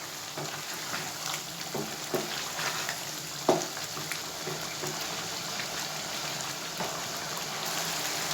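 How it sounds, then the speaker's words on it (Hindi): Chicken karahi fries in oil with a continuous crackling sizzle and occasional sharper pops, heard close and steady throughout, with no voices. "ऑयल ऐड करने के बाद हम अब इसकी अच्छी तरह भुनाई करेंगे।"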